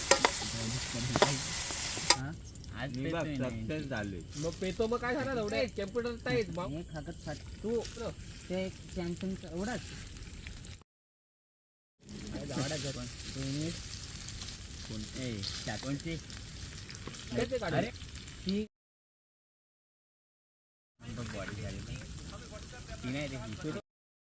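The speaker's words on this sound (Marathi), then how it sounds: "थोडंसं अजून ठेवू एक दोन मिनिट परतून घेऊ" Vegetables are sautéed and stirred in a pan at a forest campsite, a steady close sizzle with frequent talking over it, broken by a couple of abrupt gaps.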